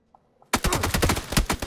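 A rapid, loud burst of automatic gunfire in a shooter game, close and continuous after a brief quiet start with a couple of faint taps.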